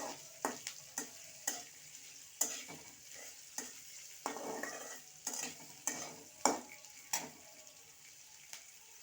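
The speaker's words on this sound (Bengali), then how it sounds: "পেঁয়াজটা আমি একটু লাল লাল করে ভেজে নেবো" Chopped onion frying with whole cumin until reddish, a low sizzle broken by regular scraping and clacking strokes of a spatula against the pan, near and fairly quiet, no voices.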